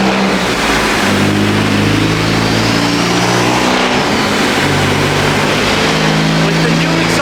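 A Honda Civic Type R FK8 engine with a new exhaust revs loud and close on a dyno in long sustained pulls, the pitch climbing and falling with a raspy exhaust tone throughout.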